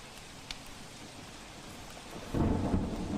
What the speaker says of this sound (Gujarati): આજ સવારમાં વાવાઝોડું અને વરસાદ ખૂબ પડવાથી